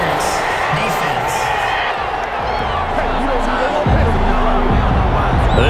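A home stadium crowd in Madden NFL 21 roars and cheers a pass interference call in a Detroit Lions vs Las Vegas Raiders game, a loud, dense wash of crowd noise with commentators talking over it.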